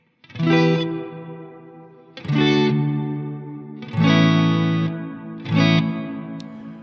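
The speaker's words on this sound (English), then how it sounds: "on the Strymon Big Sky, the second one, I have a darker hull" Four sustained chords drenched in a dark, muffled reverb from a Strymon BigSky pedal, each swelling and trailing off into a soft, washy tail with no talking.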